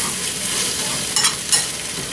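Eggs and spinach stirred in a hot frying pan for a healthy breakfast, with a steady close sizzle and two brief louder scraping strokes of the spoon, no talking.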